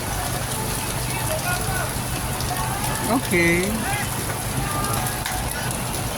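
Steady rain patters throughout at Salcedo Park while people talk nearby.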